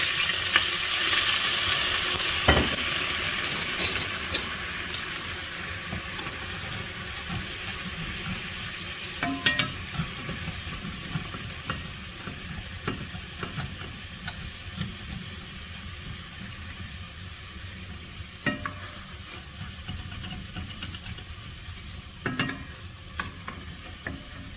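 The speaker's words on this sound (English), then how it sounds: "Deglaze the pan." Liquid hits a hot pan after frying braciole and sizzles steadily, with scraping and stirring clatter and occasional knocks of a utensil against the pan, close and continuous.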